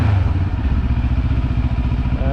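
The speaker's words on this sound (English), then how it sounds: "let me put the bike in the third gear, and even in the third gear you can slowly ride." A Benelli TRK700 motorcycle rolls slowly in third gear, its engine giving a steady, loud, close low rumble with a fast pulsing beat and light mechanical clatter throughout.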